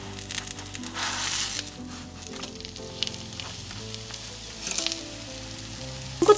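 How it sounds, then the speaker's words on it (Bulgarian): Cheese-filled crescent pastries fry in a pan, giving a steady close sizzle and crackle of hot oil with brief louder spatters toward the end. "След като се препече хубаво от едната страна,"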